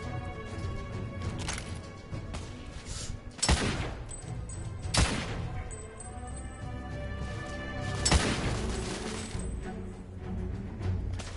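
Grenade blasts and gunfire in The Order: 1886, a steampunk shooter on PS4: several heavy booming explosions come a few seconds apart over a continuous dense layer of battle noise and shooting.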